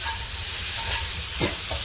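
Pork soft bone is stir-fried in caramelizing rock sugar over low heat, giving a steady sizzle with a few quick scraping stirs of the spatula near the pan.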